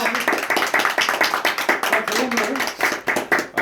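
A group claps in a quick rhythmic beat at a birthday party, the claps close and loud with voices talking and cheering over them.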